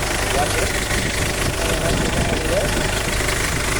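A Ford Everest engine idles after a top overhaul, running as a loud, continuous, even rumble with a dense rattling texture. A voice speaks over it.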